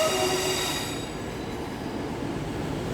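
An East Midlands Trains class 158 diesel unit passes at Nottingham station, a loud steady rolling rumble of wheels on rails with a brief squeal at the start and no talk.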